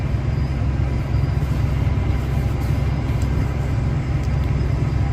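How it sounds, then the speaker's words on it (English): A car approaches on a rural road, heard as a steady low engine and road rumble that stays constant and fairly loud throughout, with no talking. "see up there, there's a car coming."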